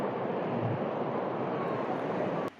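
Sea waves wash onto a beach in a steady, loud, unbroken roar of surf that holds level for the whole stretch and cuts off abruptly at the end.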